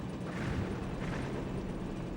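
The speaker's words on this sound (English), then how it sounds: "So many explosions." Explosions in the Nintendo space shooter Lylat Wars rumble and boom continuously, a dense, loud wash of blasts with swelling bursts and no pauses.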